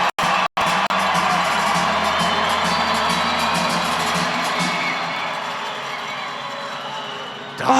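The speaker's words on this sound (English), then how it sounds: "Gets the crowd roaring." A large crowd at an indoor soccer match between the San Diego Sockers and Tacoma Stars roars and cheers continuously, a broad sustained wash of noise after a couple of brief dropouts at the start.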